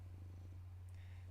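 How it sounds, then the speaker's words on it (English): A pet cat purrs close by, a low steady rumble holding without a break through the short, quiet moment with nobody speaking. "Dusty, my cat Dusty, trying to get some loving, baby."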